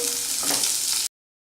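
Chopped onions, two medium ones, frying with ginger and garlic cloves in a pan for hotel-style matar paneer, a steady close broadband sizzle lasting about a second before cutting off abruptly.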